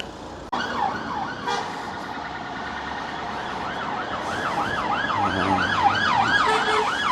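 Several police car sirens overlapping and sweeping up and down, growing louder with traffic rumble beneath, as they pass close by on Talbot Road, Blackpool.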